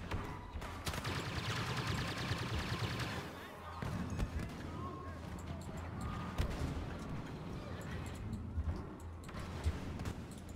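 Rapid bursts of Star Wars Battlefront gunfire crackle continuously under busy game sounds and background noise, with a brief lull before the shooting resumes.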